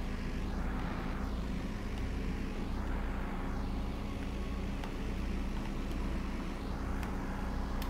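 An airliner descends to land in the VR flight game Final Approach, its engine drone a steady, loud, close roar with faint sweeping whines rising and falling, no voices over it.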